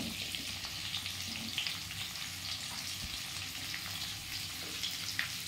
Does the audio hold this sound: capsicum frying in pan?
yes